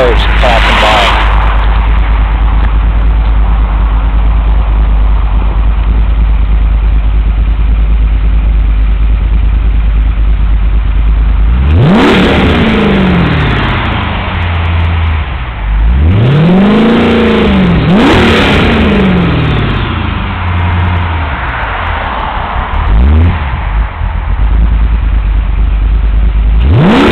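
A boat engine fitted with a Billy Boat exhaust idles and then revs up several times outdoors in North Alabama. The rising and falling roars are loud and close, with passing road traffic mixed in.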